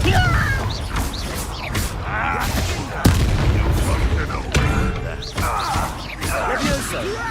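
Blasts from the Confringo explosion spell in Hogwarts Legacy, a series of sharp booms and crashes scattered across a busy battle, mixed with clattering effects and spoken exclamations.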